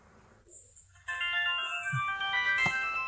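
A phone ringtone plays an incoming-call melody, clear and close, with rising electronic tones and a short intro before a louder sustained ring; no one speaks.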